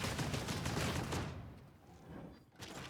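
Bolt gun fire in the Warhammer 40K: Darktide video game comes as a rapid burst of heavy, close shots, which breaks off into quiet rumbling and ends with a last sharp crack.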